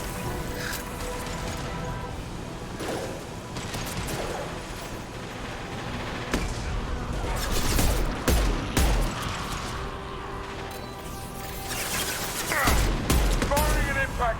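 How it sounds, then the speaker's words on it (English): Impact shot gunfire in Mass Effect 2 comes as a dense run of gunshots and blasts, louder bursts near the middle and end, with voices talking over the fight. "Firing an impact shot"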